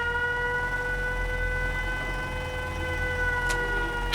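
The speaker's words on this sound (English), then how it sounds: "One of the defenders activated the siren." A settlement siren in Fallout 4 wails as a loud, steady electronic tone, with a couple of sharp clicks near the end.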